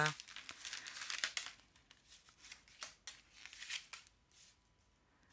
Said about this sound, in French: je rebats les cartes